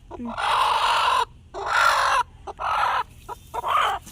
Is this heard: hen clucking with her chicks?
yes